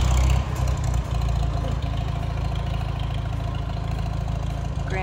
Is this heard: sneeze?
no